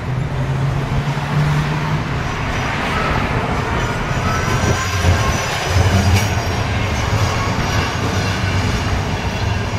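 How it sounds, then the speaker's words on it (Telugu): An electric tram rumbles past at steady volume with low hum and wheel noise, mixed with surrounding street traffic in Saint Petersburg, no voices. "ఇప్పుడు చూడండి ట్రామ్ కూడా వస్తుంది, కరెంటుతో నడిచే ట్రామ్"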